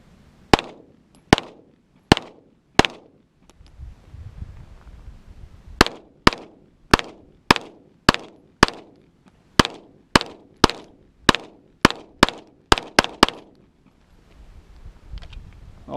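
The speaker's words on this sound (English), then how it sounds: "What I got here is an XDM 9mm. I got roughly 20 rounds in it." Sharp pistol shots from an XDM 9mm, fired one at a time outdoors: a string of four, a pause, then a long run of about fifteen loud cracks speeding up toward the end, each with a short ringing tail.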